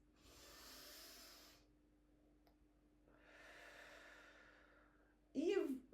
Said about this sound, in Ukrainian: Ви вдихаєте через ніс.